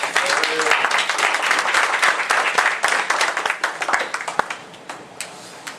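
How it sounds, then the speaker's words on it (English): A crowd at a Shabbat service for Shavuot applauds to welcome Moreh Kasadaba, with dense steady clapping and a few sharper individual claps that thin out toward the end. "Let's give Moreh Kasadaba a round of applause."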